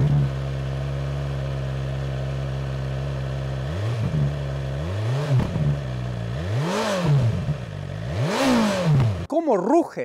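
A BMW S1000RR sport motorcycle engine idles steadily, then revs sharply several times in rising and falling bursts, loud and close.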